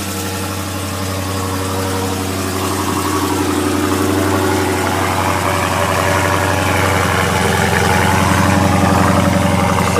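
A deep, rumbling 6.4-liter V8 engine of a 2015 Dodge Challenger Scat Pack idling steadily nearby, loud and continuous with a slight rise in intensity toward the end.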